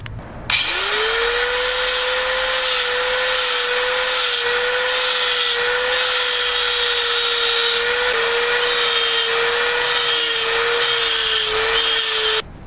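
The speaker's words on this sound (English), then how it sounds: "I'll do that with a non-ferrous grinding burr. Here's my die grinder and that grinding burr." A die grinder fitted with a non-ferrous grinding burr spins up with a sharp, high, steady whine while grinding alternator brackets for a Ford alternator upgrade. The sound stays loud and close for about twelve seconds, then cuts off abruptly.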